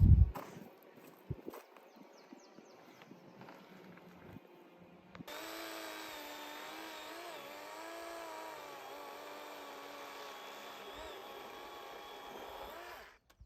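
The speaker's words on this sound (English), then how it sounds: "I'm just trimming off a little bit of this trunk so that the board is a little bit more leveled with the tree" A redwood tree trunk being trimmed on a sawmill, first some scattered knocks and handling noises, then a loud, sustained, droning cut that runs steadily to the end without talking.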